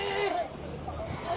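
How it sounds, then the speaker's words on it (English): Sheep bleating during shearing, a couple of wavering, strained cries close by, with a voice talking over them. "I never seen the sheep bleeding and screaming like that"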